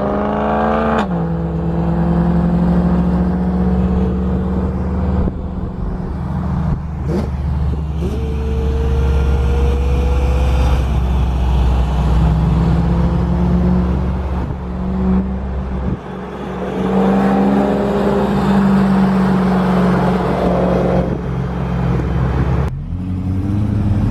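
A BMW M3 revs loudly and accelerates nearby, its engine pitch rising and falling in repeated sweeps over a long stretch, with brief sharp pops and no talking.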